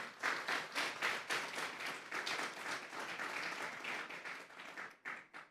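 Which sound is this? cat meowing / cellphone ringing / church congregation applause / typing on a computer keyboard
church congregation applause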